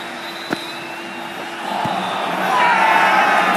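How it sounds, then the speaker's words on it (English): Crowd at a cricket stadium during an India vs England ODI, a broad roar of cheering that swells steadily louder toward the end, with a sharp thump early on. "There's an almost tangible fervour throughout the crowd at the moment"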